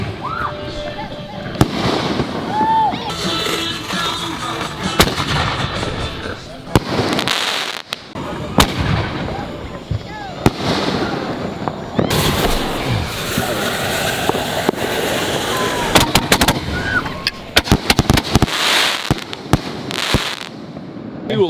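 A fireworks display set off at Lake Wildwood, with repeated loud booms, crackling bursts and sharp pops at irregular intervals, some close and intense, while people talk nearby.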